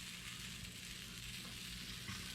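French toast frying in a hot skillet gives a steady, even sizzle with a dense crackle and no pauses, heard close and alone.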